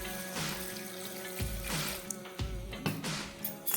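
Water poured into a pot of jackfruit curry on the stove: a continuous splashing, trickling pour with a few louder gulps and splashes, close and fairly loud, with no speech.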